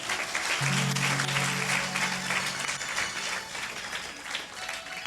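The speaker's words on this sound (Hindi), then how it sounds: "क्यों ना ताली बजा के परमेश्वर को धन्यवाद" Sustained applause from a church congregation on Palm Sunday, steady and dense throughout, with a low organ-like tone briefly sounding underneath.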